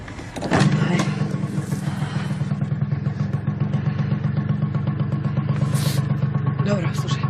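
A motorcycle engine runs steadily close by, a loud, continuous throbbing drone that kicks in sharply after a brief rattle, with people talking over it.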